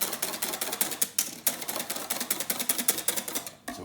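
Custard mixture whisked briskly in a bowl, a fast run of close, crisp clicking taps against the bowl's side, alone and steady, with a couple of short pauses.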